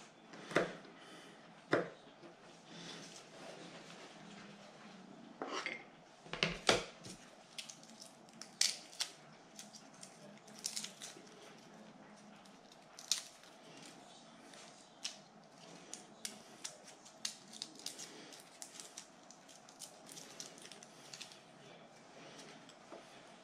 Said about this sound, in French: Je coupe, je coupe en petits bouts.